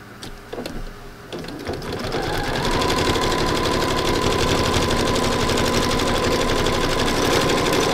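A sewing machine runs steadily while thread painting a beach landscape, its rapid continuous stitching close and loud after a few brief starts in the opening seconds, with no talk.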